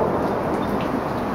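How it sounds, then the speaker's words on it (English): Light rain falls outdoors at a backyard barbecue in Kitchener, Canada, making a steady, dense hiss that holds evenly throughout, with no voices. "There's a little bit of rain happening at this moment."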